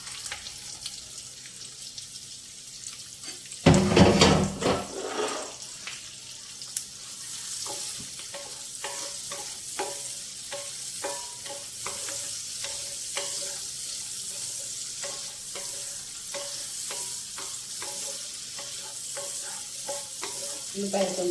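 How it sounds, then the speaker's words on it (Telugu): Onions sizzling in hot oil in a pan for a radish and moong dal curry, a steady close frying hiss with a loud burst as they hit the pan, then repeated scraping of a spoon stirring. "ఉల్లిపాయలు వేస్తున్నాను."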